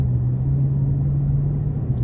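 A car drives along a road with a steady low engine and tire rumble from inside the cabin, loud and continuous with no talk.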